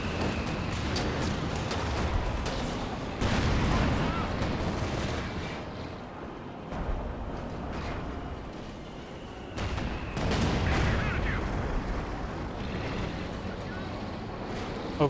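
Airburst artillery barrage in Company of Heroes 2, a steady, rumbling wash of battle noise. Louder swells around four and eleven seconds suggest shell bursts over continuous combat din.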